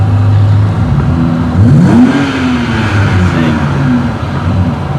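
BMW engine in economy throttle mode accelerating, a steady mid-pitched drone that rises briefly in a swelling rev before settling, loud and continuous with no talk.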